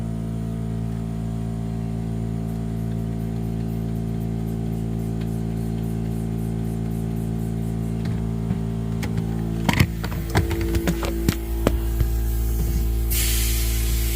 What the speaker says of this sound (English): I better hit it again with some more spray.